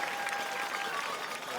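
Curling arena crowd applauding a shot at a U.S. men versus China match, steady dense clapping at moderate distance, sustained throughout.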